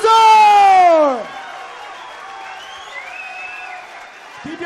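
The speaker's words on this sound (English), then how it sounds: "Keep your applause going" After a pro featherweight title fight, an announcer's long drawn-out shout gives way to a crowd applauding and murmuring in the arena, the clapping moderate and diffuse, with another voice starting at the end.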